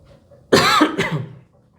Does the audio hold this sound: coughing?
yes